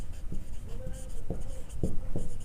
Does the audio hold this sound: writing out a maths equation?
yes